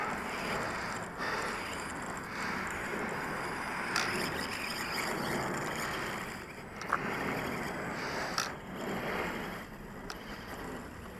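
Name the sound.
RC stunt truck WL Toys A999 driving over gravel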